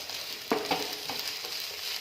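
Chopped capsicum fries in a pan with cooked potato for a Spanish omelette, giving a steady, soft sizzle with a couple of brief stirring scrapes and no talking.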